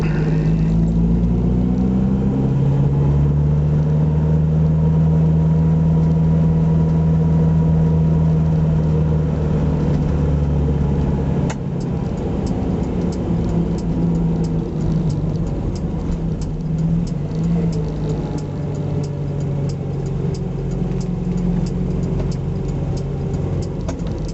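A car driving through a tight roundabout, its engine humming steadily from inside the cabin, with the pitch shifting as it slows and pulls away under constant road rumble.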